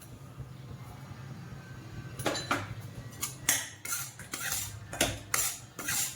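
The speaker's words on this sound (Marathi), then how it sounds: "रव्याला काही खूप टाकायचं नाही असंच कोरडा भाजायचा मंद गॅसवरती चांगला भाजायचा रवा" Dry semolina being stirred and roasted in a pan over a low flame, with a spoon or spatula scraping and clinking against the metal in irregular bursts over a low steady hum, no talking.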